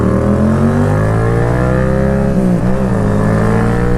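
A Honda Goldwing trike engine heard while riding, a loud steady hum that dips slightly midway and then pulls back up, with no voices.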